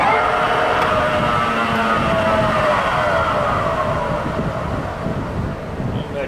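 A Goodway GW1660 gap bed lathe with a new 10-inch three-jaw chuck runs loudly and continuously, its motor and gearing producing a steady droning whine with gliding tonal layers throughout.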